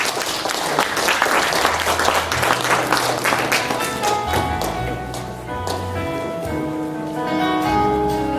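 An audience applauds at an award ceremony in a national assembly library auditorium, a dense sustained wave of clapping from many hands that stays loud throughout, with a low musical tone underneath.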